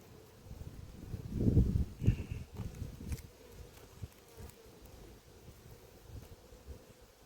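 Honey bees buzz around an open apiary hive, a steady close drone with a louder burst of wing noise early on, then settling into a softer continuous hum.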